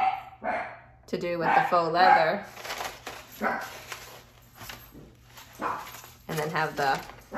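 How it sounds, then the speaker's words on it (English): A dog barks in several loud, close bursts, interspersed with someone talking nearby. "Excuse the dog."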